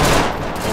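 Dense, loud gunfire in the Garry's Mod 1942 RP game, a rapid burst of overlapping shots forming a continuous crackling barrage up close, with no pauses and no talk.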